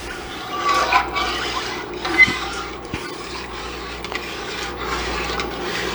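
Spoon swirling Lipton onion soup mix through liquid in a pot for pot roast, a soft continuous scraping and sloshing with a couple of light knocks against the pot.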